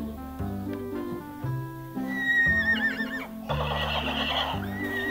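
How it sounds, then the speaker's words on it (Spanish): A horse neighs and whinnies over a farmyard backdrop with hoof clip-clop, the calls rising and wavering loudly in the second half, set within a children's farm lullaby scene. "caballo"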